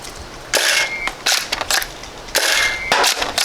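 A gun called The Ogre is hip-fired at bottles outdoors, giving two loud, sharp bursts of firing about two seconds apart, each with a bright ringing edge, separated by quieter gaps.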